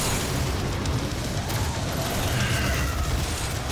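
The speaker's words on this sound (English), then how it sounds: "Some explosions. Explosions." Dense, continuous rumbling booms and blasts from the video game DOOM (2016), heavy low-end thuds layered over a steady wash of noise, loud throughout.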